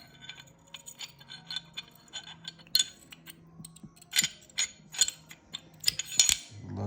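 Handgun barrel and slide being reassembled, giving close, quiet metallic clicks, clinks and sliding scrapes in irregular bursts over a faint low hum.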